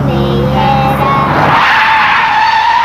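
Car tires skid and squeal loudly in a New Zealand road-safety ad, a harsh, sustained screech that swells into broad rushing noise just before a crash, following a fading snatch of music.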